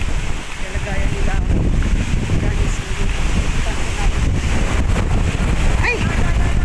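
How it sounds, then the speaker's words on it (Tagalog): Strong wind gusts roar continuously into the microphone outdoors during a flood, a loud buffeting rush with faint voices underneath. "Ang lakas ng hangin."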